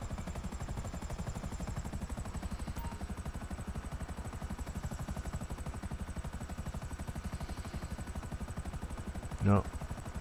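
Helicopter rotor chopping steadily in GTA V Online as it descends to land on a yacht, a continuous pulsing thrum throughout with a brief louder thump near the end; someone talks over it.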